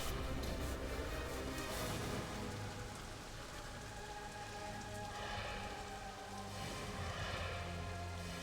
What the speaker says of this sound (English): In the rain with the music swelling.